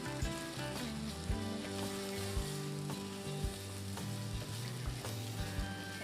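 Green chili is stirred into chicken liver adobo frying in a pan, with a continuous sizzle and occasional stirring knocks over a steady tonal hum.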